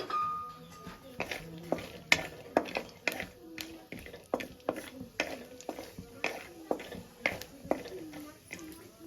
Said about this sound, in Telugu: ఆయిల్ అనేది బాగా వేడెక్కింది పల్లీలు అనేది వేసుకుందామండి